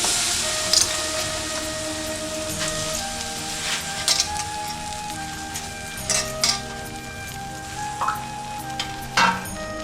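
Soft sizzling of jaggery in a hot pan of ghee, with a spoon scraping and tapping now and then as it is stirred, close by and without voices.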